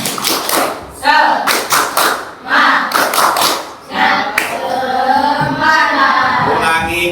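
A classroom group doing a rhythmic spirit clap, loud patterned bursts of clapping in quick sets, mixed with voices chanting along and then talking.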